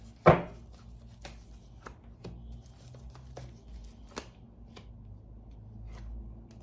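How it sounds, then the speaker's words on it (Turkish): Tarot cards are handled and picked out one by one with one sharp slap near the start, then soft, scattered ticks and rustles at close range with no talking. "Şimdi 3 kart seçeceğim."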